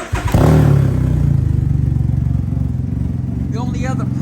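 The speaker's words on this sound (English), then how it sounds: "And then I'm gonna turn this bike on here real quick." A Can-Am Ryker three-wheel motorcycle engine cranks and fires, settling into a steady, close, loud idle with a rhythmic pulse; a voice speaks briefly near the end.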